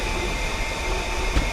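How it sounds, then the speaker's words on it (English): A Kawasaki M8 electric multiple unit accelerating in Train Simulator 2019 on Metro-North, a steady droning rumble with a faint tonal whine held throughout, close and even in level. "better acceleration sounds and physics upon leaving a station and slowing down at a station"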